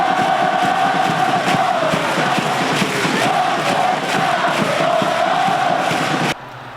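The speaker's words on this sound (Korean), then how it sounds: "강원FC 공식 서포터즈 나르샤의 힘찬 함성이" Orange-clad Gangwon FC supporters group Narsha chanting and cheering in a packed stadium, a loud continuous roar of massed voices with rhythmic chant swells, cutting off abruptly near the end.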